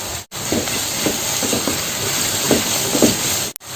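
Chopped garlic, ginger and a teaspoon of salt sautéing in a pan for mutton kurma, giving a steady, close sizzling hiss that runs without a break and has faint clatter in places.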